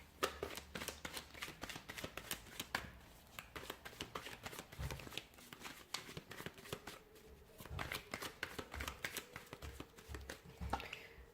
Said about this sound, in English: we'll give the cards a shuffle here